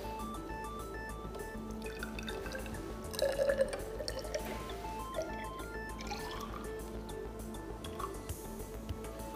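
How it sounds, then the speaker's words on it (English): Water poured into a measuring cylinder during a school chemistry practical, a steady trickling and dripping with rising bubbly tones over faint background hum. "measure 50 cubic centimetres of water into the measuring cylinder"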